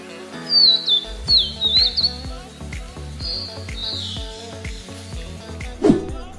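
Several bright, sweeping whistled notes from a Sumatran niltava, a songbird found only on Sumatra, ring out in a rising and falling series, with a lower rhythmic background sound and one harsher squawk near the end.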